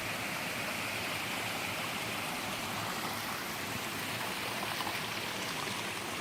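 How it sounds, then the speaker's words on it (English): A waterfall heard from just above it, a continuous broad roar of falling and rushing water, steady and moderately loud throughout with no voices. "I'm just right over the waterfall."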